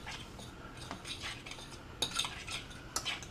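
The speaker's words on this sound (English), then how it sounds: "I'm just going to use a fork to sort of, mix it up or whatnot" A fork stirs a spice rub in a bowl for beer can chicken, giving quick light metallic scrapes and clinks in an irregular rhythm, close and quiet with no talk.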